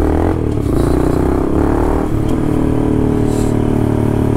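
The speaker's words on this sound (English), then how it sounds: "I wonder how the bike sounds now" Honda Grom motorcycle ridden through New York City streets, its small engine droning steadily and loudly throughout with rough clattering texture and wind rumble, no voices.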